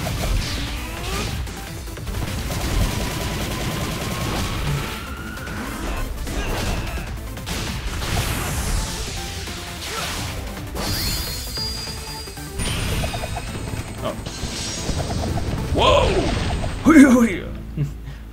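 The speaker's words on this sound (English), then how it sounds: "You could probably just hear me, like, smashing that thing." Sonic smashing an object in the Sonic Frontiers video game: a dense mix of crashes, whacks, mechanical ratcheting and whooshes, with a sharp impact cluster near the end, under a talking voice.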